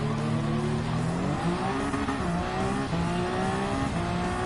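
A Gr.1 Le Mans hybrid prototype race car in Gran Turismo 7 at Fuji International, its loud engine whine dropping in pitch through gear changes as it brakes hard into a corner, with brief tire squeal.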